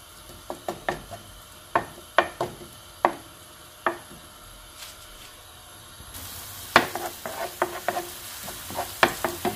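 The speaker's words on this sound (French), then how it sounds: "Je vais mettre les oignons. Je laisse un peu revenir." Onions sautéing in olive oil give a soft sizzle under repeated sharp clacks of a utensil stirring in the pan, irregular knocks spread through the stretch, with the frying hiss growing fuller near the end.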